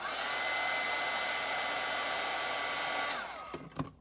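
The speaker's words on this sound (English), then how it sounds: "I'm not going to fight with trying to take the sound out from the heat tool" A loud, steady roar of a heat tool blowing hot air runs for about three seconds, then cuts off, leaving a few soft clicks and thumps.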